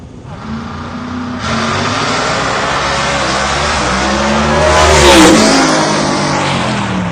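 Nitrous-assisted turbo radial drag car launching at an outlaw drag race, a loud sustained engine roar that swells to a peak midway as it passes, then holds strong.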